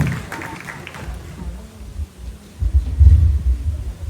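Applause and crowd noise for Professor Donna Hope at a funeral ceremony, a low rumbling swell of clapping that builds toward the end, with a voice over a speaker system early on.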